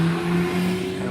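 A Seat Ibiza FR hillclimb race car with a 1.4 litre turbocharged engine drones past at Harewood, a loud, steady engine note held at near-constant pitch for a brief moment.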